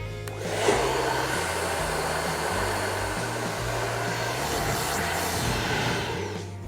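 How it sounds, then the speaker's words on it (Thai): Hair dryer blowing on damp hair sprayed with salt water, a loud continuous whooshing roar with a low motor hum, close and steady throughout with no talking. "แล้วเราก็จะใช้ไดร์เป่าผมนะคะ มาเป่าค่ะให้ตัวน้ำเกลือเนี่ยแห้งนะคะ"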